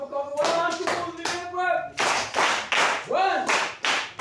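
People in a church clapping to welcome a baby, rhythmic bursts of hand claps alternating with a speaking voice, fairly close and loud.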